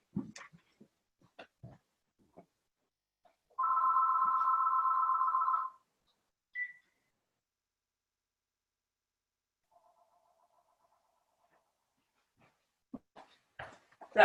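A telephone rings in a short electronic burst of about two seconds, alone in a quiet room, with another faint ring later and brief thumps and movement around it.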